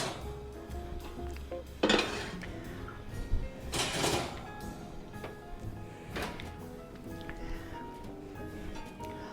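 A pan of baked spaghetti is pulled out of the oven and handled, with metallic scrapes, clanks and a couple of louder knocks of cookware in a kitchen, and faint clinks scattered between.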